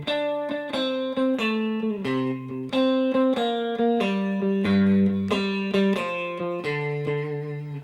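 Electric guitar with picked down-up strokes plays a steady repeating pattern of notes and chords, close and clear at an even volume, with each new note sounding on the beat and no voices.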